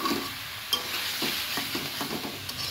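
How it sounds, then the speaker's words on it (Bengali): Cauliflower frying in plenty of oil and ghee, a constant close sizzle broken by a steady series of soft stirring scrapes and taps, no talking. "ফুলকপিগুলো সুন্দর করে ভেজে নিচ্ছি"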